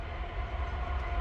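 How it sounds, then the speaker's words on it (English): A train rolls past a campsite in the woods, a steady low rumble of rail cars heard at moderate distance, continuous and fairly quiet, with no horn. "there's a train that goes by, but he doesn't honk his horn"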